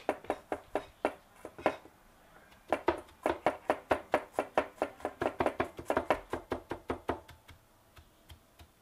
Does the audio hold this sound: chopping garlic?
yes